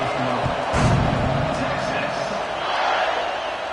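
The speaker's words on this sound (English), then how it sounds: "this crowd is buzzing after that last score" A football stadium crowd buzzes after a touchdown and extra point, a steady roar of many voices with a louder swell near the start, under an announcer talking.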